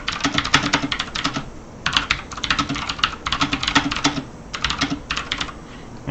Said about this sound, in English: you can type things in here